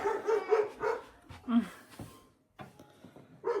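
A dog barks several times in quick succession, then gives a higher yip and one more bark after a short pause, fairly close.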